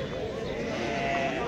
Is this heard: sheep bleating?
yes